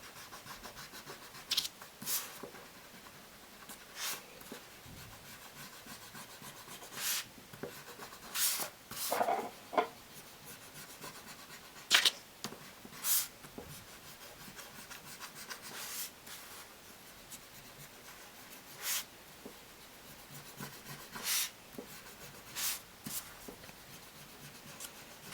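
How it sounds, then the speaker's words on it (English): A pencil eraser rubs out lines on paper close up, making quiet, intermittent scratchy rubbing strokes in short bursts separated by pauses. No voice is heard. "I just like to erase these lines"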